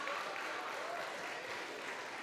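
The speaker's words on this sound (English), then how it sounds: "You can clap really loud." A comedy show audience claps in a continuous, even wash of applause for a couple of seconds, with no other sound standing out.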